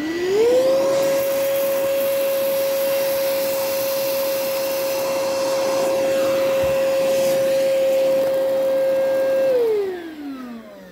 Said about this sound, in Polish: Odpalimy sobie odkurzacz i sprawdzimy, jak mu pójdzie